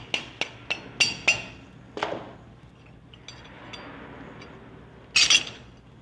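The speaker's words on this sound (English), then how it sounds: "lightly tap the shaft out of the bearings" A small tool lightly taps a shaft out of the bearings of a water union for a CNC router saw, giving a quick series of five or six sharp metallic taps, then a brief clinking burst near the end.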